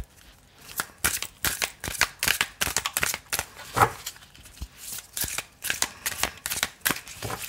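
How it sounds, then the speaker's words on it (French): Playing cards are handled and shuffled close up, a rapid irregular series of crisp flicking riffles and snaps with no one talking. "Je vais aller chercher les cartes moi-même"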